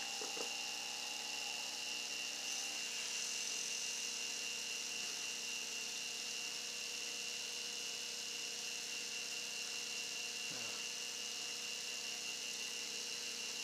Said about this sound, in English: Next step is the Z-axis is coming down, so I can speed that up a bit.